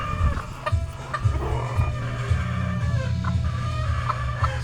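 Hens cluck steadily in a busy chorus with a low, continuous hum underneath; several birds close by, with no one talking.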